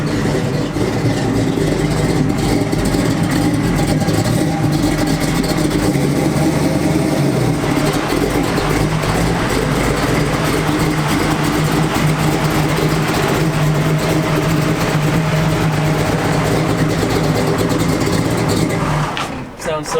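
A V8 muscle car engine runs steadily and loudly at close range for the whole stretch, a continuous rumbling drone with slight shifts in pitch, while people talk over it.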